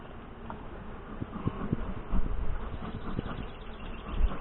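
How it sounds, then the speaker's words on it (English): Saskatraz honey bees drone softly at an open hive, a steady low buzz with a few closer passes and faint knocks, no voices. "Real calm bees."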